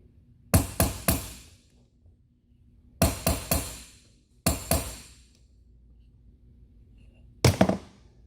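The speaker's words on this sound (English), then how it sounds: "Let's see if we can do a little beating and banging" Loud, sharp hammer strikes on a metal boat gooseneck fitting in short clusters of two or three ringing blows, separated by pauses of near silence.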